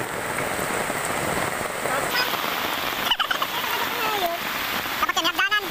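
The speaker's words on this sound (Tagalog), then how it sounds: "maulan na! Maulan!" Heavy typhoon rain pelts surfaces nearby in a dense, continuous patter, with wind building and excited voices talking over the downpour.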